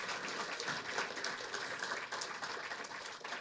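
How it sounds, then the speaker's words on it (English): A room of attendees at the PyData London 2017 conference lightning talks clapping together, a steady even patter of many hands sustained throughout at moderate loudness. "Get a little clap."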